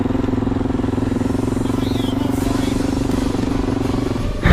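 An enduro dirt bike engine runs steadily at idle on an off-road ride in Piedmont, Italy, a loud, close, continuous rumble with a rough putter, no talking heard.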